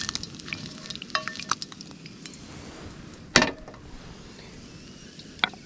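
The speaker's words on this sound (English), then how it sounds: "Oh, they're still sizzling. I can hear them." Food sizzling in a pan on a camp stove during solo camping on a sand cay, a steady close crackle with sharp clinks of a utensil scraping the pan around the middle and near the end.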